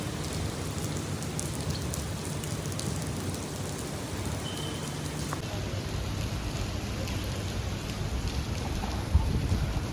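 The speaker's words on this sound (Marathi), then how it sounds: "पाऊस खूप छान पडतो आहे" Steady rain falls continuously during a workday, a dense hiss with occasional drops and some wind noise at the microphone, with no talking.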